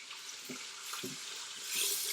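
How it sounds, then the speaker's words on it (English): A chuck roast sears in a hot pan with a steady, bright sizzling hiss, close by and moderately loud, with a few soft knocks and pops scattered through it. "Again, it sears pretty fast, as you can see."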